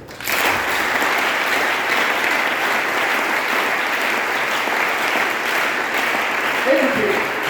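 A church congregation breaks into sustained applause, a dense, loud wash of clapping that starts abruptly and carries on steadily, with a voice briefly rising over it near the end.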